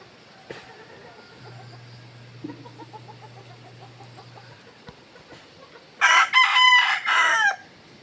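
Native chickens in a yard: a faint rooster crow early on, then a loud, close rooster crow near the end over quiet background noise.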